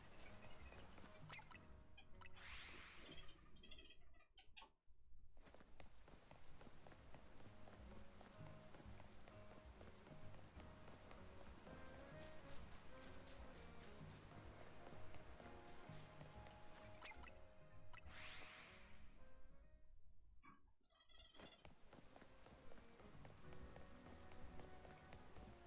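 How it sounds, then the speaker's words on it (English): Rainfall ambience in the video game Pokémon Legends Z-A, a faint, steady patter with soft drips and footstep-like taps, running continuously with two brief dips in level. "it's still raining"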